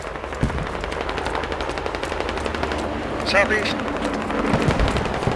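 Rapid machine-gun bursts and scattered gunshots crackle in a military shooter game, sustained and fairly loud throughout, with a player's voice speaking briefly over the firing.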